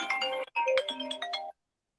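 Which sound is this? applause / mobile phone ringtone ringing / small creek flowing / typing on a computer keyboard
mobile phone ringtone ringing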